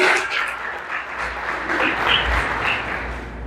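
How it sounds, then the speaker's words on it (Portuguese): A church congregation gives a sustained round of applause, dense and steady clapping filling the room at moderate loudness throughout, with a faint low rumble underneath and no clear speech. "Você pode dar uma salva de palmas?"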